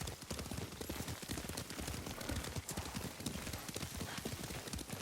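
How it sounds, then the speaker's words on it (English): Horse hooves clip-clop in a fast, steady rhythm while riding in the video game Ghost of Tsushima, a continuous close galloping clatter over dirt with a faint neigh. "Lord Sakai taught me to ride a horse."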